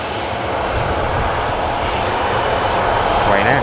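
Ryanair jet engines spool up at an airport with a loud, sustained broadband roar, a rising whine emerging near the end, steady and close without a break.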